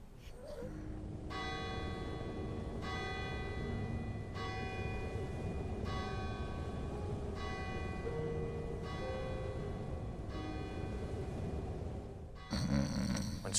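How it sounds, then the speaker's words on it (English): A neighboring church bell chimes the hour in a Christmas Carol telling, ringing several slow, evenly spaced tolls with lingering tones over a low rumbling background, ending in a brief clatter. "he heard the chimes of a neighboring church ring the hour of 12"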